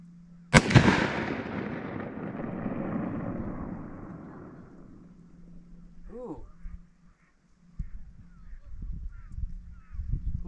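A single loud .303 British Enfield rifle shot fired at a range while sighting in a scope, with a long echoing decay rolling away, followed by faint voices and small handling noises.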